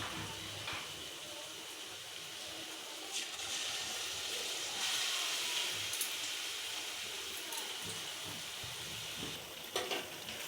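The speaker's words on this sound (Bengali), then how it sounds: "বন্ধুরা দেখো, পকোড়াগুলো আমার ভাজা হচ্ছে।" Batter-coated biscuit pakoras fry in a hot pan, giving a steady oily sizzle with scattered crackles and pops that swell slightly midway.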